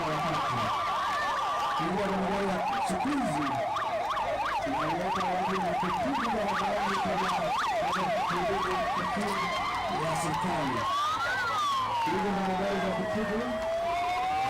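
A siren wails in a fast rising-and-falling yelp, then a slower sweeping wail, loud and close, over a low engine rumble and faint background voices.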